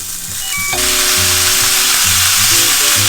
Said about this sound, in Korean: 고기를 굽기 전에 이제 식용유를 살짝 둘러주시고 고기를 구워주시는 게 좋아요